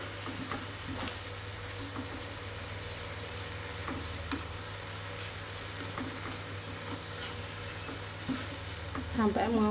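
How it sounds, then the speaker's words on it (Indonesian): A piece of sugar is sautéed in a pan with a steady frying sizzle and occasional stirring scrapes and clicks, continuous and close throughout, with a faint voice in the background. "Tumis hingga harum dan matang."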